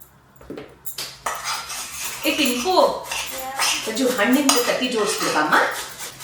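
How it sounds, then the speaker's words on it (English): A spoon stirs and scrapes through a vegetable and millet bath mixture in a pan while salt is added, giving repeated clinks and scraping of metal on cookware, close and fairly loud, with voices in the background. "Then I stir into the bath mixture and combine well by adding in salt."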